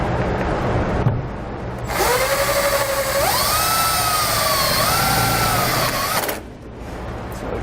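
A power drill drives a self-tapping screw to fix a ring terminal during a roof vent fan install in a van, its motor whining for about four seconds and rising in pitch as the screw bites, close and loud.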